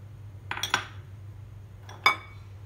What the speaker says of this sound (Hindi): मैं इसको चम्मच की मदद से अच्छी तरह मिक्स कर लूँगी।